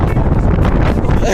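Loud wind buffeting a microphone in England, a dense low rumble that roars steadily for a moment.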